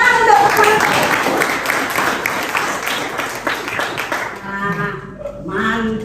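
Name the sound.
classroom applause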